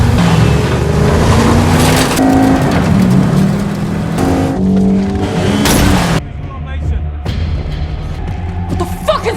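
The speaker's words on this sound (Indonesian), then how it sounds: "Kemudian, Mason membajak sebuah mobil polisi" A stolen police car speeds away during a film chase, its engine roaring loud and close with tire squeals, mixed with film score and bursts of voices.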